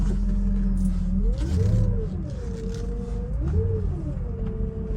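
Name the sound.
car pump whining, high-pitched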